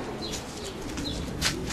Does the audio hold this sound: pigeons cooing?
yes